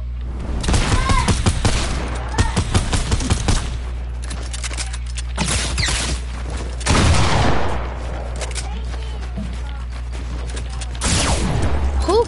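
Bursts of rapid gunfire from the video game Fortnite crackle in repeated volleys with short pauses, loud and dense over a steady low drone, while players' voices shout over it.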